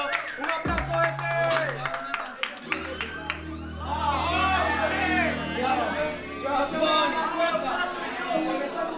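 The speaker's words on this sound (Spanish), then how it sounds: "¡Un aplauso a este!" Crowd claps, whoops and chatters at a freestyle rap battle quarterfinal, lively noise rising after a brief pause, with voices and a beat mixed in.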